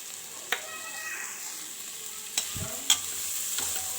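Vegetables with ground pepper stirred in a frying pan for veg fried rice, a soft steady sizzle broken by a few sharp scrapes and knocks of a spoon against the pan, with no talk.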